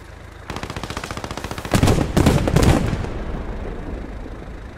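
Gunfire and fighting in the World War II game Post Scriptum: rapid machine-gun bursts rattle loudly, followed by a cluster of heavier blasts, then trailing off into fading distant battle noise.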